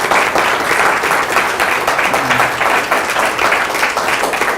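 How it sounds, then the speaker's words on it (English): A round of applause from an audience at a coastal community dashboard meeting, steady dense clapping from many hands throughout, with a faint voice briefly underneath. "So I think this is an appropriate time to give them a round of applause."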